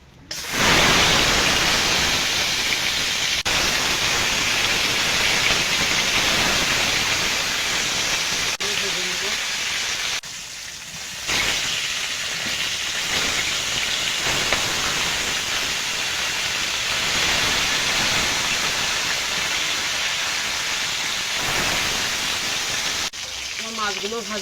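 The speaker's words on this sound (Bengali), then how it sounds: "এবার মাছগুলো ভেজে নেব।" Pieces of fish sizzle in hot oil in a home kitchen, a steady loud hissing fry that carries on almost without a break, with a short dip about halfway through.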